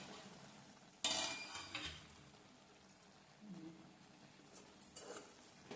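A lid goes onto a cooking pot of banana flower curry with one sharp metallic clatter, followed by quieter kitchen clinks and faint background sounds.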